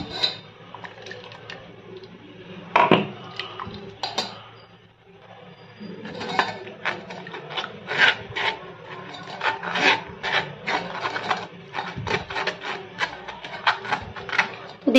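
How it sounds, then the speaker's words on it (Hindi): A metal spoon scrapes and presses ground watermelon rind paste through a mesh strainer, giving repeated rasping, rubbing strokes up close in an uneven rhythm. "इस तरीके से चम्मच से करते हुए इसको हमें अच्छे से छान लेना है"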